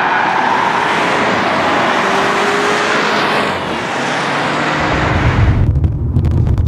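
A Mercedes-Benz car driving on an airfield during an advanced driving event, steady loud engine roar with wind rush, shifting tone midway and a deeper rumble near the end.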